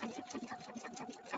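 Epic2 embroidery machine stitching a design, a steady close mechanical whir with rapid repeating needle pulses throughout the short stretch.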